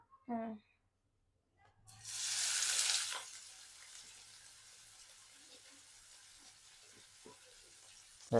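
Chopped onions hit hot oil in a pan with a loud burst of sizzling that eases into a steady, softer frying hiss, with a brief voice just before and faint kitchen clinks.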